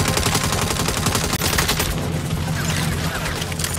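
Rapid sustained gunfire from the Saints Row video game, aimed at a turret: dense, loud bursts of shots rattling continuously with no pause, booming low end throughout.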